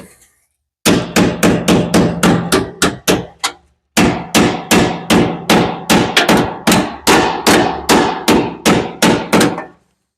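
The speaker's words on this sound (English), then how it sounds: "If it doesn't fit, get out a hammer, make it fit." Loud hammer blows strike the metal body of a 1983 Ford Mustang GT Fox body in a steady rhythm, each ringing out briefly, with a short pause partway before the rapid pounding resumes.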